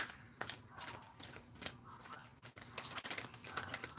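Oracle cards being shuffled by hand, a crisp rustling and snapping of card stock in quick irregular bursts, close and fairly quiet.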